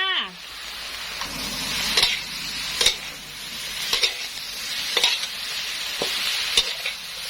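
Pickled mustard greens stir-fried with fish sauce and light soy sauce, a steady close sizzle broken by regular scraping strokes of a spatula roughly every second, with no voices over it.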